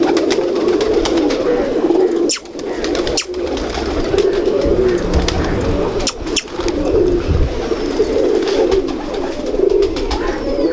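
Pigeons cooing continuously and fairly loud at close range, a dense low warbling chorus with a few sharp knocks or wing flaps.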